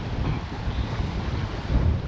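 Strong wind roars and buffets the microphone continuously, with a broad rushing noise like surf beneath it.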